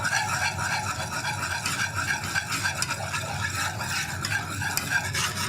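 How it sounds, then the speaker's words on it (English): A whisk scrapes and stirs all-purpose flour into a paste in a pan for vegan mac and cheese, a continuous busy rasp at close range with faint sizzling beneath. "So I'm going to start whisking it in."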